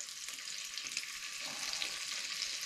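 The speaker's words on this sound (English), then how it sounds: "Throw all my veggies in now." Carrots, cabbage, potato and turnip tossed into browned onions and pork in a pan over a propane burner, a dense close sizzle that holds steady and slightly swells, with no talking.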